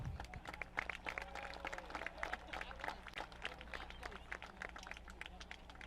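A distant crowd in the grandstands at Skagit Speedway applauds, scattered claps and cheers over a low steady hum, faint and somewhat far off.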